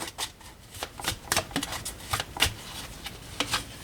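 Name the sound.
cutting a deck of tarot cards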